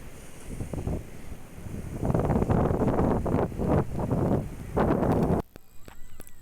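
Wind and sea waves at a blocked river mouth on the Kovalam coast, blowing in broad rushing gusts with surges of surf, loud and near for about five seconds before dropping to a quiet hiss.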